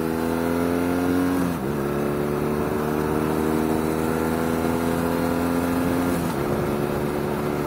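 A BMW R nineT motorcycle engine pulls hard under acceleration, its steady drone climbing in pitch through the gears with two audible shift dips, loud and close throughout with no talking.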